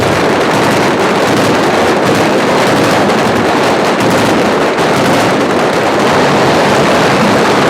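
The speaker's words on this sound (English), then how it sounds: "These guns are so loud" Big guns fire nonstop on the set of the war film Black Hawk Down, a very loud, close wall of crackling shots with no break and no voices.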